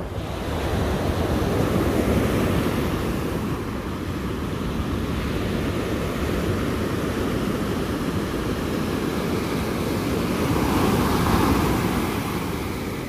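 Atlantic surf at Sea Bright, New Jersey, rolls in as a continuous broad wash of breaking waves, with wind buffeting the microphone throughout and no voices.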